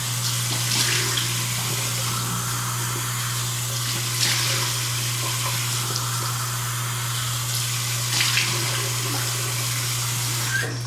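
Tap water runs steadily into a sink during face rinsing, a constant close hiss with a low hum beneath and a few brief splashes; no one talks.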